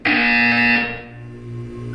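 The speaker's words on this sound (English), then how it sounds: "You will hear a buzzer." A harsh electronic buzzer from the video game Portal 2 blares loudly and close for about a second, then fades into a lower lingering hum, heard alone without speech.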